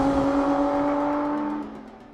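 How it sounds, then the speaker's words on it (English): A Lotus Emira engine revs and holds a high, steady tone before the pitch eases off and fades, with no voices over it. "All right, so that's the engine."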